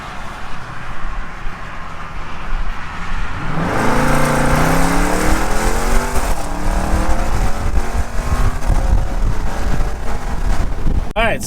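Jeep Grand Cherokee Trackhawk engine with a muffler-deleted exhaust, starting with a low rumble and then revving hard into a loud, rising roar that holds steadily with wind buffeting the microphone.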